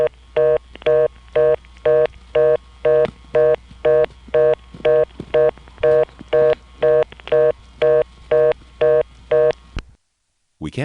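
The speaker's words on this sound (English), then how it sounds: "the dial tone times out to a reorder" A rapid, regular on-off telephone reorder tone after the dial tone times out on a 1976 Senderized XY step-by-step exchange in Manassas, Virginia, pulsing in short even bursts for about ten seconds before cutting off into silence.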